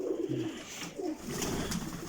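Berezneguvatsky pigeons, a late-hatched young bird among them, coo in a soft low rolling burst, fairly close, with faint background noise and no talk.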